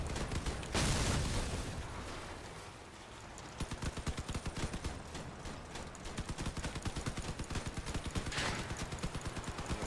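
Rapid tapped bursts of video game gunfire from several weapons crackle in dense, steady volleys, loud and close, with brief pauses and a heavier blast near the start.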